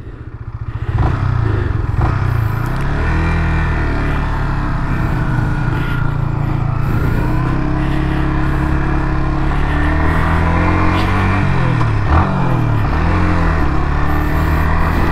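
A Yamaha XSR155 motorcycle engine runs and revs steadily throughout, loud and close, with rising and falling pitch as the rider accelerates and shifts.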